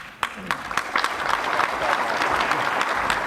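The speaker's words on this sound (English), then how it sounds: "Thank you, Friday, for starting that applause for me" A crowd bursts into applause at a state government address, scattered claps quickly building into dense, loud, continuous clapping that carries through to the end.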